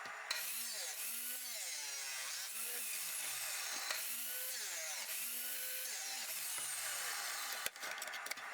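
A power saw cuts through a forge-welded Damascus steel billet, a sustained whining grind with repeated rising and falling pitch sweeps as the blade works, ending in a brief clatter.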